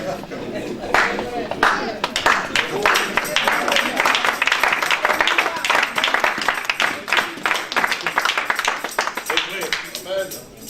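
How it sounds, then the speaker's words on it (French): A church congregation claps and cheers in a dense, steady burst of applause that fills the room, with voices shouting amid the clapping. "Ton acclamation est timide"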